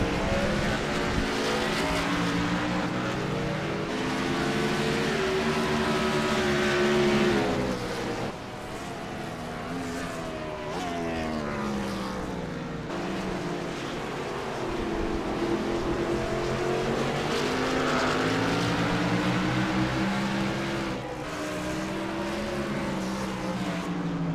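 NASCAR race cars roar around the Sonoma road course, engines rising and falling in pitch as they accelerate and brake, a dense steady drone heard through a broadcast mix.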